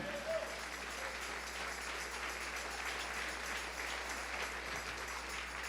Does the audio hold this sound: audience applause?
yes